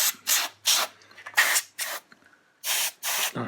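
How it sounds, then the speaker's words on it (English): A can of compressed air blows dust off Vectrex gear in a series of short, loud hissing bursts close to the microphone, about seven sprays separated by brief pauses, with no talking. "I'm just kind of spraying everywhere I see dust."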